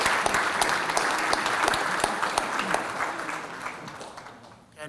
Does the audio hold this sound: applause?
yes